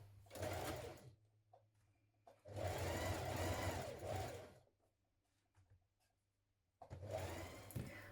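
A sewing machine stitches a back seam on a tunic top in three bursts of rapid, steady motor whirring, separated by quiet pauses.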